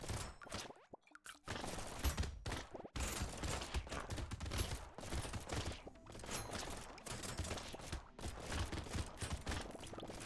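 Rapid overlapping pistol fire in the game Brotato, dense crackling bursts of shots stacking into a continuous busy barrage with brief gaps, at moderate level.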